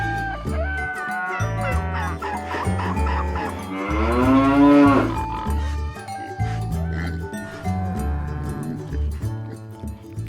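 Cattle low in several drawn-out moos, one loud and close in the middle, with a babysitter cow and calves in a farm field and no talk.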